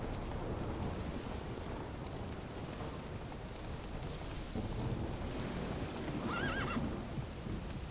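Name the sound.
Geralt's horse Roach neighing, from The Witcher 3 video game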